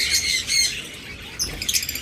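Pet bird chicks, such as lovebirds, cockatiels and budgerigars at a bird market, squawk loudly in short harsh bursts, with a brief pause before a second cluster of sharp, shrill calls close by.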